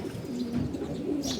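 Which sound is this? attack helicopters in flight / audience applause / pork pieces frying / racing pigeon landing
racing pigeon landing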